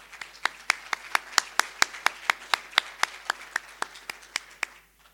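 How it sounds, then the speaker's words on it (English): Hand claps from a conference audience at a closing session, about two dozen sharp, evenly spaced claps in a steady rhythm, fairly close and clear, fading out at the end. "Paula, would you take a stand and we can applaud you?"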